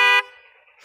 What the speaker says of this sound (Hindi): और हॉर्न की आवाज़ आप देख सकते हैं कितनी लाउड है